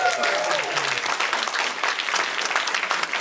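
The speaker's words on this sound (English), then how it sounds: "Folks, we get another round of applause for Time After Time." Cinema audience applauding after a screening of Time After Time (1979), a dense, steady round of clapping from a sizeable crowd throughout the short stretch.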